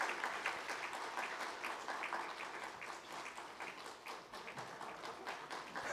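A congregation at a Korean Presbyterian church's deacon ordination service claps steadily to welcome children bringing flowers, with faint, distant, continuous clapping and no talk.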